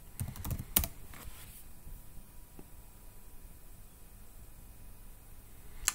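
Several quick keystrokes on a computer keyboard in the first second, then near silence with faint room hiss, and one more soft tap right at the end.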